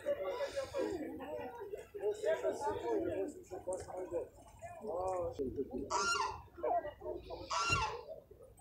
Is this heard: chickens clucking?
yes